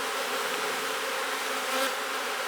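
Foraging honey bees hum around a hive in a dense, even buzz that holds steady and close throughout, with no voices.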